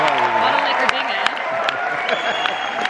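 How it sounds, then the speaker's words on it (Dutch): An audience applauds after a film screening, a steady wash of clapping heard from within the crowd. People talk close by over it. "Dit is nu nog aan het klappen, dat is zo mooi."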